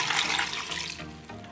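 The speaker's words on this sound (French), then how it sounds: "J'ajoute un peu d'eau," Water is poured from a measuring jug into a cooking pot of parsley and garlic, a short bright splashing rush that softens and thins out as the stream slows, with no talking.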